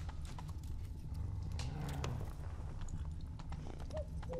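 Roach, a horse in The Witcher 3: Wild Hunt, gallops with steady rhythmic hoof clip-clop over a low ambient game background, with a brief faint whinny near the end.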